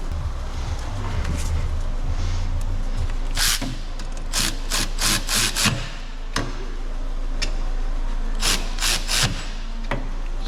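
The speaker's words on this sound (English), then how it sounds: "then you can use the ratchet to do them up" Ratchet tightening the rear brake caliper bolts on a 2018 Volvo V40, a run of quick close metallic clicks in bursts, with low workshop hum beneath and no talk.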